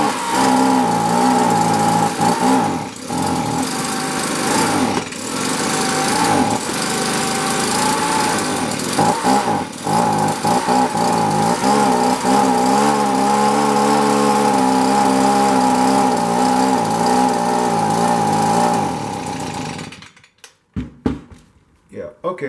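A Stihl BG65 leaf blower's small two-stroke engine running loud and close with a steady, buzzing drone, idling too fast after a carburetor adjustment, shifting pitch slightly, then cutting out near the end.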